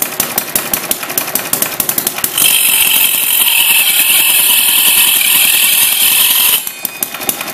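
An old hit-and-miss engine drives a buzz saw cutting logs. Its loud, rapid chugging runs throughout, while a harsh, high whine of the blade biting through wood fills the middle stretch before easing off.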